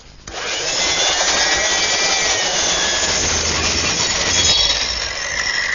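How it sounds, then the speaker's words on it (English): Belt sander running steadily on a glued-up wooden flagpole section outdoors, a continuous loud abrasive rasping hum starting after a brief moment and holding for several seconds with no talk. "Best way to do that is with the belt sander."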